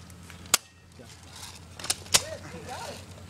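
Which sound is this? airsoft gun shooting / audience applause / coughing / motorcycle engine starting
airsoft gun shooting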